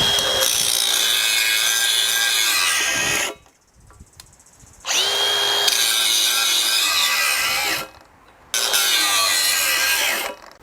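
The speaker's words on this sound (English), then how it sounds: "Now we've got a good old-fashioned Milwaukee grinder" A Milwaukee angle grinder on an M18 Forge high-output battery grinds hard in three long loud bursts, its whine dipping under load and separated by brief quiet gaps as it spins down.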